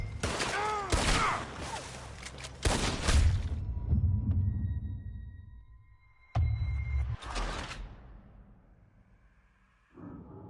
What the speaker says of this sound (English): Looks like we're shooting our way out of here, fellers.